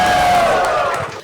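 Audience cheering at a Maven Silicon event, a short loud burst of crowd shouting and whooping that rings out and then fades quickly.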